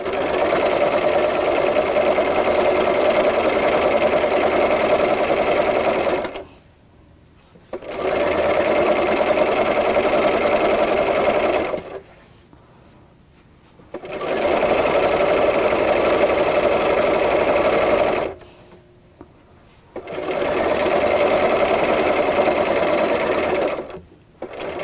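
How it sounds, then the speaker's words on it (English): An electric sewing machine stitches a quilt seam in four steady runs of several seconds each, a close, even mechanical whir separated by brief pauses while the fabric is turned. "I just stitch on an angle until I get about 1/4 inch to the edge and then turn it."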